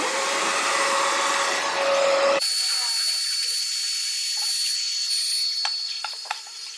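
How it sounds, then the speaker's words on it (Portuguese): A hair dryer drying paint on an MDF box blows with a loud whooshing roar and a steady whine, then drops to a lower setting that keeps hissing, with faint clicks near the end. "Agora eu pego o secador de cabelo."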